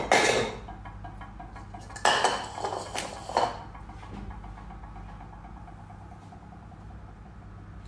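Dishes are being washed, with sharp clinks of plates and cutlery in a few loud bursts near the start and middle that fade into a quiet low background hum.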